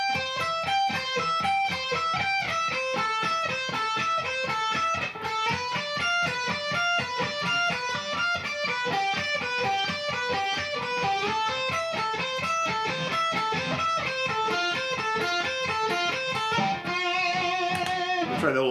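Electric guitar plays slow sweep-picked triad arpeggios in steady, even cascades up and down through the chords, clean and close, ending on a sustained ringing chord.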